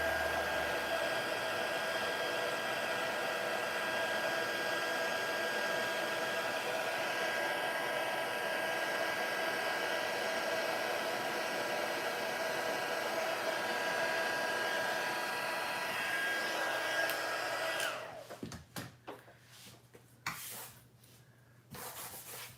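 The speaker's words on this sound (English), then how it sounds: "let's get the heat tool out. And we're gonna heat set this sentiment" A heat tool blows a steady, loud airflow hum to heat-set embossed ink on a handmade card sentiment. The whir runs unbroken for about eighteen seconds, then cuts off, leaving soft handling noises.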